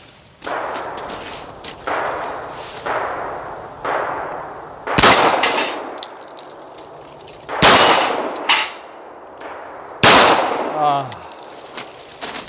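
Several loud, close pistol shots from a Tisas 1911A1, fired one-handed at an outdoor range bay, come in irregular bursts, with sharp metallic clangs of bullets striking 6-inch steel plates ringing out after some reports.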